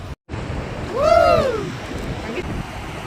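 Sea waves wash steadily at Panambur beach, a broad continuous rush mixed with wind buffeting the microphone, with a brief voice rising and falling in the middle.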